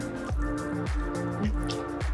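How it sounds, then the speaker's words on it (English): Pasta water poured a little at a time into a lemony kale pasta sauce while it is stirred, giving repeated wet squishing and dripping sounds in steady rhythm, close and moderately loud with no talking. "adding a little bit at a time, you're gonna add some pasta water"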